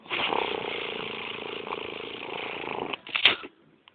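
A loud, steady chainsaw motor drone runs for about three seconds, then cuts off as the battery dies with a brief rattling burst before falling silent.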